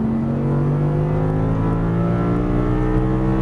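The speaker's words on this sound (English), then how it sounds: "squeeze that throttle all the way down, full throttle" An Audi R8 V10 on a Las Vegas exotic racing track roars at full throttle, its loud, close engine note climbing steadily in pitch without a break.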